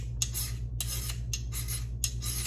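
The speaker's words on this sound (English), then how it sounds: "So you just start filing off all the chunks." A hand file rasps across a chewed-up steel broadhead blade in four separate one-way strokes, each a gritty scrape followed by a short pause as the file is lifted, over a low steady hum.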